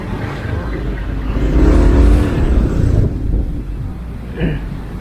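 Cars passing in busy street traffic, a swelling engine whoosh that peaks as a vehicle goes by close and then fades, followed by quieter traffic and a brief later motor burst.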